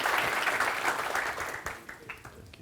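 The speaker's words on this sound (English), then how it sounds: "You need another applause." Steady applause from an audience, a dense wash of many hands clapping that gradually thins and fades toward the end.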